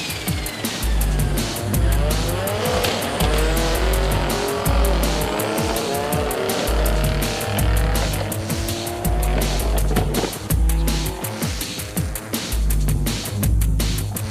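A race car fitted with an HKS 51R SPL turbo and a 1,000-horsepower-plus engine revs hard through repeated bursts of acceleration, loud and close, with rapid gear changes and tire squeal over a steady rhythmic engine pulse.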